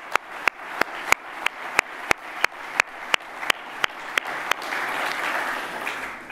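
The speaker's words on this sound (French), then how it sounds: "je me permettrai de vous demander de les applaudir à cet instant pour saluer cette émergence de Numéum" Applause rises at a launch evening for the tech trade body Numeum, a series of sharp, evenly spaced claps that swell into broader clapping near the end.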